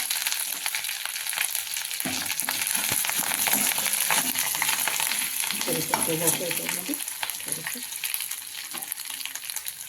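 Curry leaves sizzling in hot oil in a pan while a bitter gourd curry is cooked, a bright, crackling fry with stirring clatter through the middle, close and continuous.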